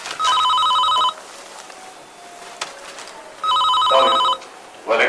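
A telephone bell rings in two loud electronic trill bursts separated by a quiet pause, close and clear in an indoor room.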